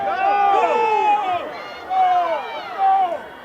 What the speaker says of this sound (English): Your crowd getting restless.